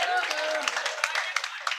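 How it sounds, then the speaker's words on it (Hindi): Audience clapping at an Urdu poetry mushaira in Mubarakpur, a brief burst of scattered hand claps with a faint voice or tonal sound underneath. "जोरदार तालियों से इनका इस्तकबाल फरमा दीजिए।"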